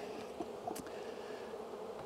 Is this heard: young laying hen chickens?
no